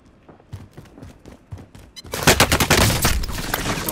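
Gunfire from the video game Call of Duty Warzone: sparse single shots at first, then a dense, loud burst of rapid automatic fire taking over the second half.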